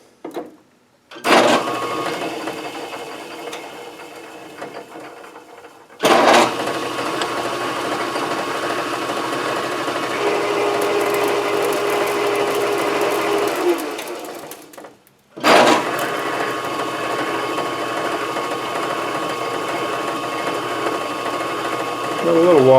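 Shop-built wood lathe running while cutting threads, a steady whirring motor hum with a faint whine, in three long stretches separated by brief stops, with people talking under it.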